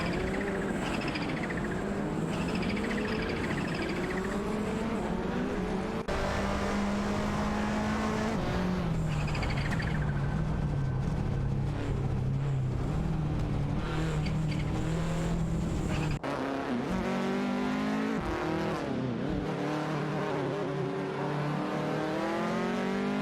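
Rally cars in a racing video game, a Lancia and a Toyota Celica among them, roar continuously with engine pitch climbing and dropping through gear shifts. The engines stay loud and close, and no one speaks.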